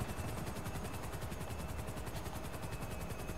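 A helicopter in the video game GTA Online drones with a steady, loud rotor and engine roar, its blade chop pulsing evenly throughout.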